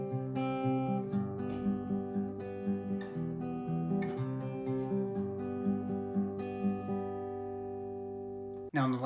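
Acoustic guitar strums the chord progression of a song in an even, steady rhythm, ringing clearly up close and alone, with a final sharp strum at the end.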